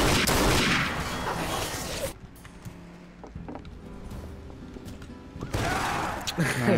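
Dense bursts of gunfire in Garry's Mod, loud rapid volleys at the start and end with scattered sharper single shots and clicks between, while players talk over it.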